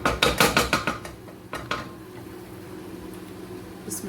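A whisk rattles quickly against a pot as milk goes into a lasagne sauce, with a fast burst of metallic taps followed by a few slower strokes and a quiet tail.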